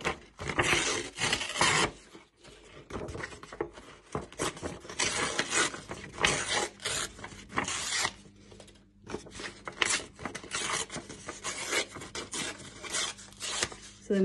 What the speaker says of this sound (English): rip it kind of just zigzag, so it's not as like an even line, it's jagged